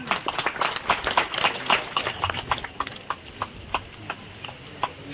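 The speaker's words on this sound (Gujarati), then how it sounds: "આપણે બધાય એને તાળીઓથી વધાવીએ" Applause from the crowd welcoming a guest at a religious gathering of saints at the foot of the hill in Palitana: steady, moderately loud clapping with distinct claps, thinning out toward the end.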